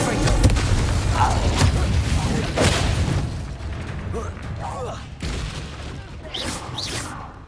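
Spell blasts crackle and boom in Hogwarts Legacy gameplay, a dense run of fire and explosion bursts from Incendio and Confringo casts layered over rumbling game effects, loud and close with a voice speaking spell names.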